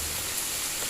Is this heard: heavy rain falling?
yes